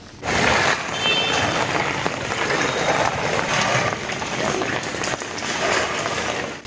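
Heavy rainwater rushes in a low-lying street and floods into houses, a loud, dense, unbroken roar of falling and flowing water that holds steady throughout.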